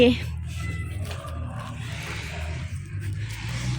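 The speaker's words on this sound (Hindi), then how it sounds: "ये पीछे हमारे बिल्ली आ रही है" A cat following close behind gives a sharp meow at the start, then further drawn-out mewing sounds come under and between a person talking nearby.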